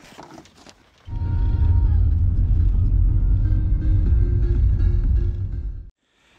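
A car drives to the Matsimäe Pühajärve camping area, a steady loud low engine and road rumble starting after a second of quieter sound and running evenly for about five seconds before cutting off.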